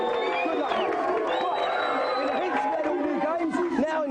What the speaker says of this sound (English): Oh, well, give him a big cheer.